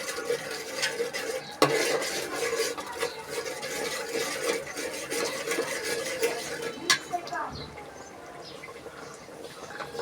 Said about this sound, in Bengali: তারপরে একটু নাড়াচাড়া